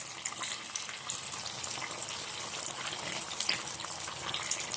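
Oyster sauce poured along the edge of a hot sizzling plate of tofu cream, giving a steady, close bubbling sizzle and crackle throughout with no talking.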